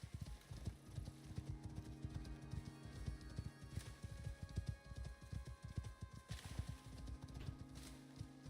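Horse hooves in a survival video game, a quiet, continuous clip-clop of a galloping mount with irregular, rapid beats and a faint patter like rain behind them.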